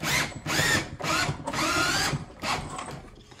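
A power drill drives an outdoor-rated Spax lag screw while a Sol-Ark 15K unit is mounted: loud, close whirring bursts of the motor, stopping and restarting several times, with no talking.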